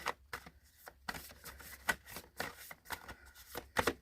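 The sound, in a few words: shuffling a deck of cards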